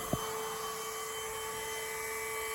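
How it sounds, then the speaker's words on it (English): A shop vacuum runs steadily with its hose camouflaged at a southern yellowjacket nest entrance to suck up returning forager wasps, giving a constant mechanical whine and hum after one brief knock at the start. "Just leave the vac running, and in a certain amount of time, you'll end up collecting quite a few that way."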